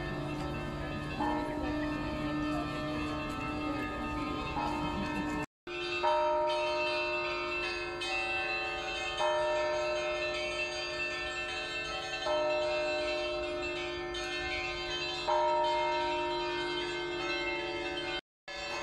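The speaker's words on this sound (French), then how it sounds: "on entend les cloches de l'église qui se trouve en face du palais" Church bells ring on and on from a church facing Tsaritsyno Palace in Moscow, a rich layered peal of sustained overlapping tones with strong hum, fairly loud and continuous across the whole stretch.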